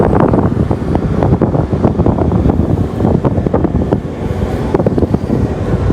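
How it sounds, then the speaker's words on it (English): Strong wind buffets the microphone outdoors on a walk around the Osaka Dome, a continuous loud rumbling roar with gusty fluctuations throughout and no voices. "Nice wind, nice for you, nice for me"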